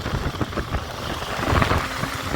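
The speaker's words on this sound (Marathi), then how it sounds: "पाऊस पडतो असा आमचा स्पीड कमी" Rain falls steadily during a motorbike ride from Mumbai to Chiplun in Konkan, a dense, continuous wash of noise mixed with wind and road rumble, with no talking.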